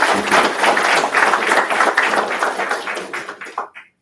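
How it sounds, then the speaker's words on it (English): Audience applause for a college president at a lecture event, dense clapping at steady volume that thins and fades out near the end. "One big applause for President MacDonald."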